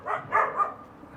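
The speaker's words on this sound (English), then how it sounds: "These dogs defend because this house belongs to his family." Dogs bark inside a house in a war-damaged district of Mosul, Iraq, giving three quick muffled barks at moderate distance, followed by quiet background.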